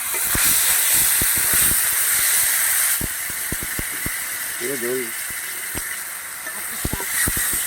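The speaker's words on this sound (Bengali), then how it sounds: "ফোড়নটা ফুটে গেছে, এবার আমি আদা বাটাটা দিয়ে দিলাম।" Ginger paste hits hot oil tempered with five-spice seeds and dried red chillies in a home kitchen. A loud, steady frying hiss runs throughout, broken by sharp pops and spatters.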